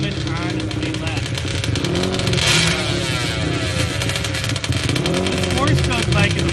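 A 4-stroke drag bike engine drones and revs at a drag strip time trial, loud and continuous with rising and falling pitch, while a commentator talks over it the whole time.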